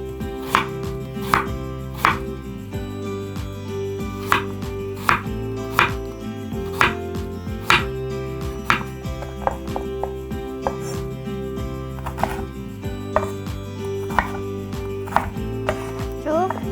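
Steady knife strokes slice Korean radish thin on a cutting board for nabak water kimchi, a crisp, evenly spaced series of close taps with faint background music underneath.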